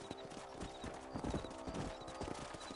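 Horse hooves clip-clopping at a steady walking rhythm while riding across a ranch property in the video game Red Dead Redemption, close and clear over a faint background ambience.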